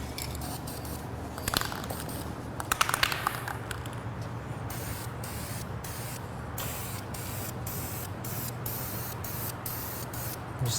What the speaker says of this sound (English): So go ahead and get this sprayed.